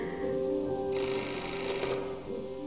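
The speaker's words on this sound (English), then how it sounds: "Dial the number, pick up the phone." A telephone rings in the Beholder video game, with a steady electronic bell tone that sounds continuously and clearly over a soft, rain-like background hiss.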